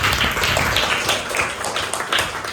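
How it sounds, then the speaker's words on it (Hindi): Students at a school food distribution drive break into a short burst of group clapping, loud and close, a dense flurry of hand claps lasting only a couple of seconds. "तो इनके लिए एक बार हम लोग तालियां बजाते हैं।"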